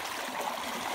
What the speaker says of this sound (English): look how swift this water is